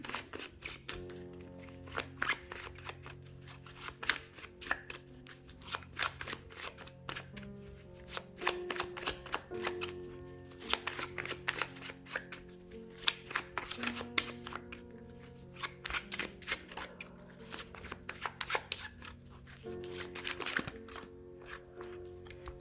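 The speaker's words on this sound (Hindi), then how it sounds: "सबसे पहले हम कार्ड शफल करते हैं" Tarot cards riffle and slap repeatedly in a steady shuffling rhythm, close and crisp, over soft background music with no talk.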